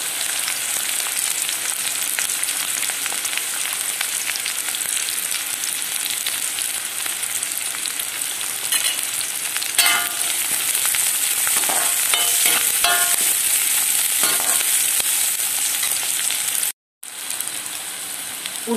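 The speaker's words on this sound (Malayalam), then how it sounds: "ഇനി നമുക്ക് ചുവന്നുള്ളി അരിഞ്ഞത് ഇതിലേക്ക് ചേർത്തൊന്ന് മൂപ്പിച്ചെടുക്കാം." Chopped shallots fry in a pan after coconut has been roasted in it, for Thrissur-style Indari Appam, giving a loud, steady, close sizzle with a few louder crackles and a brief cut-out near the end.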